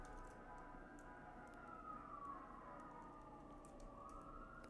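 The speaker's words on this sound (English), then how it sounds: "you probably hear sirens outside. That's just a fire truck going by" Fire truck siren passing outside an apartment near a fire station: a faint, distant wail sweeping slowly up and down beneath steady background hum, muffled through walls.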